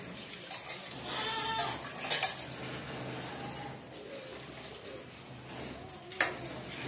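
Soaked rice goes into a pot of chicken biryani with a soft, rustling pour and a few light metallic clinks of a utensil against the pot, fairly quiet and close, with no talking.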